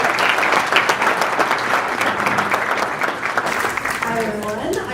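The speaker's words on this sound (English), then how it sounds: "So another nice round of applause here" Wedding guests applaud the matron of honor after her toast, a full, close round of clapping that holds steady for several seconds, with a voice beginning to speak over it near the end.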